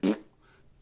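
A voice imitates a fart with one short, loud blown raspberry that fades quickly into near silence.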